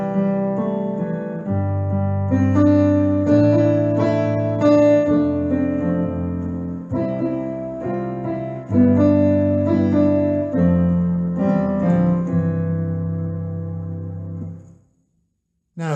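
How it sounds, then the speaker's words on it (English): Keyboard or piano playing bass line, chordal fill and melody together, a full, steady accompaniment with rhythmic chords under the tune, close and clear, ending with a fade to silence. "And putting it all together might sound something like this."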